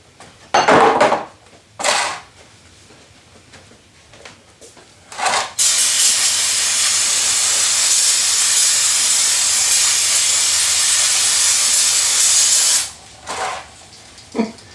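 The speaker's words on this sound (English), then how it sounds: "we'll spray this down with some brake clean" A long, loud aerosol brake cleaner spray hisses steadily for several seconds on an old Honda four-wheeler's brakes, preceded and followed by short bursts of spraying and a few clanks.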